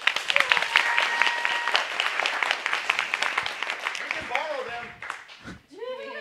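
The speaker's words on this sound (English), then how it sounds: "Clap for yourselves, please." An audience at an open stage performance night claps loudly and densely for several seconds, the applause thinning out as a person begins talking near the end.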